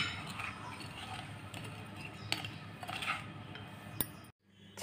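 Chicken pickle being mixed with lemon juice in a bowl, with a spoon clinking and scraping against the dish throughout and a few sharper clinks near the end before a short silence.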